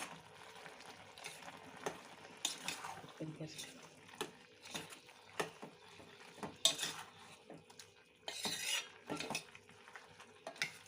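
Capsicum prawn masala with green chillies stirred in a pan, spoon scraping and clattering against metal in irregular bursts, close, with soft frying underneath and a voice talking at times.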